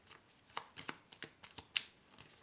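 Tarot cards shuffled and drawn during a new moon reading, a run of soft, quiet riffles and flicks with one sharper snap near the end, no talk over it.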